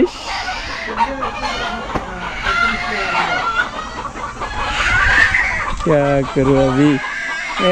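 Native chickens cluck and squawk close by on a farm in a hilly area of Saudi Arabia, amid a busy, noisy scene with people talking, ending with a loud run of repeated clucks.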